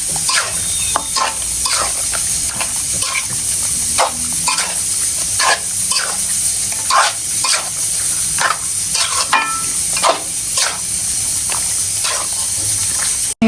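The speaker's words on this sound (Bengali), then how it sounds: "এখন মাংস বসানো হয়েছে, মাংস কষানো হচ্ছে আর কি।" Meat sizzles in a hot pan while being sautéed and stirred, the spoon scraping in a steady rhythm over a constant frying hiss, with no talking.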